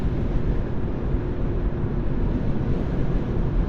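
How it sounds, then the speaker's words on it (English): Steady broadband wind roar fills the interior of a moving car, a constant low rushing drone with no talking. "It's a lot of wind noise in this car compared to my Mercedes 300."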